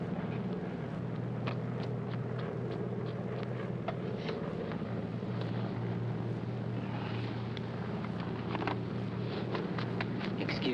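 Inside an airplane cabin in flight, the engines keep up a continuous low, steady drone with faint rumble, alone and unchanging under occasional faint clicks.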